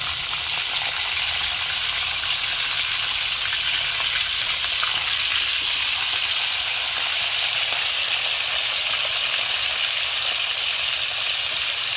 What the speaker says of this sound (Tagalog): atin na pong bibilingin yung pong ating piniprito.